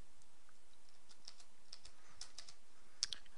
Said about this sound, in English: Just quickly type in some commands here